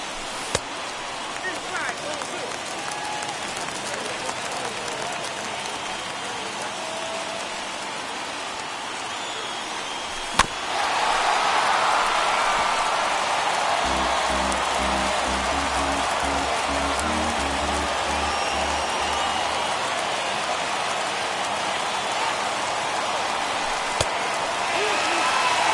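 Crowd noise in a baseball video game swells into sustained cheering during a bases-loaded late-inning rally, a loud, steady roar with a brief thump, plus a low rhythmic pulsing partway through.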